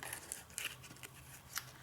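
Scissors snipping through paper, a few soft, quick cuts spaced unevenly, quiet and close with no talking.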